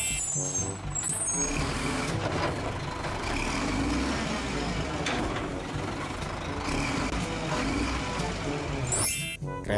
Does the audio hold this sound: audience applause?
no